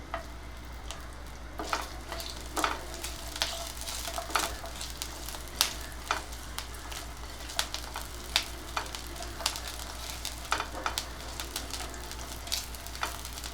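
Garlic cloves and ginger sizzle steadily in hot oil in a pan, a soft continuous frying hiss broken by frequent clicks and scrapes of stirring, with a low hum underneath.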